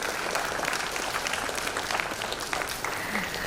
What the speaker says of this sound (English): Round of applause again for Shayanti Basu